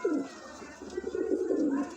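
A pigeon coos beside a golden female at a breeder's loft in Islamabad, Pakistan: one drawn-out, throaty coo that swells and rolls on, close to the microphone, with no talk.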